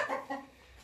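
A laying hen clucks twice, short and quiet, in a brief, faint burst with near silence after.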